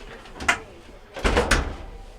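A Maytag MDG4000BWQ dryer door is shut twice: a soft thump, then a heavier, fuller closing knock about a second later, both near and fairly quiet.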